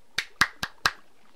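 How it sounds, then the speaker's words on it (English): Four sharp claps ring out at an even pace, crisp and close, with quiet between them. "For a first map, I give you a clap."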